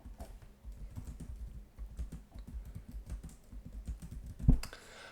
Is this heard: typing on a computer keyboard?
yes